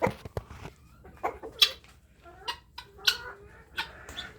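Chickens in a backyard coop setup for farm hens, with roosters present, cluck and call in short, irregular bursts close by, several calls rising above a quiet background with no talking.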